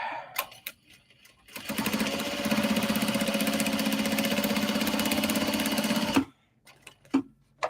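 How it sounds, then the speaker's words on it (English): A sewing machine stitches a kimono-lined clutch wallet made from obi and kimono fabric in a fast, even, continuous run of needle clatter for about four seconds, with a few isolated clicks and handling taps before and after. "All right, let's get this stitched."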